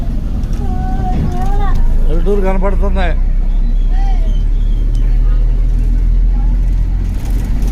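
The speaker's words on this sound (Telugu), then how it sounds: "జోలపాలెం బస్సులో ప్రయాణం చేస్తున్నాం మనం" Steady low engine rumble and road noise fill the inside of a moving Jolapalem bus, with continuous chatter and talk from passengers over the drone.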